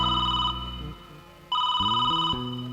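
A mobile phone rings with a repeating electronic ringtone of bright, steady tones in two bursts, fairly loud and close, with no talk over it.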